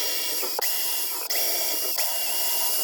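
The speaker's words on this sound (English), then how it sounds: "bust out the drill, and drill some holes through the cabinet" An electric drill bores holes through the wooden cabinet of a pinball machine, giving a steady, close, high whine that dips briefly about three times as the bit catches or restarts.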